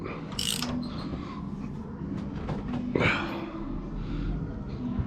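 Mechanical clicking and ratcheting from tightening the rake adjustment on a Brunswick bowling pinsetter, a few metallic clanks over a low machinery hum, close by.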